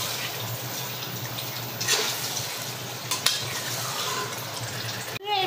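Mutton being stirred with spices in a pot, a steady soft scraping and sizzling texture with a couple of brief clinks, ending in a sharp knock near the end.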